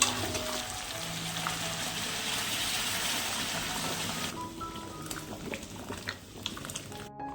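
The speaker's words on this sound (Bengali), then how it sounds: "এবারে সিদ্ধ করা মুগ ডাল এর মধ্যে দিয়ে দেবো" Boiled mung dal is poured into a pan and splashes in a continuous wet gush for several seconds. The pouring then gives way to quieter bubbling and a few scattered small knocks.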